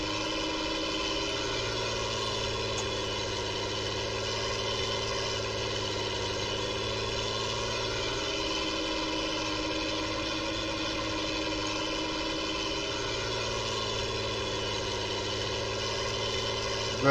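Steady, close idle of a Ford TW35 tractor engine, a deep, even diesel rumble with rich harmonic drone that barely changes across the span, heard alone without voices.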